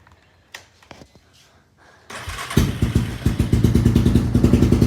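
A 1999 Yamaha Wolverine 350 ATV with a DG exhaust and removed baffles is cold-started without choke: a few quiet clicks and thumps, then the engine catches and settles into a loud, rapid, even putter close by.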